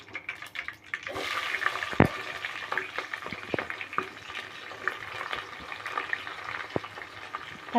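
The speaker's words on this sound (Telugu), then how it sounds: "ఇవి కొద్దిగా వేగాలి. చూడండి, కొద్దిగా వేగుతున్నాయి." Onion and green chillies, added after garlic, sizzle and fry steadily in a hot pan while sambar rice is cooked, with occasional stirring clinks and scrapes and no talk.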